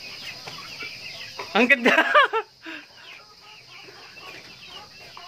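Free-range chickens cluck and squawk in a short, loud burst of overlapping calls near the middle, then quieter scattered clucks follow over steady insect-like background hiss; a person speaks briefly over them.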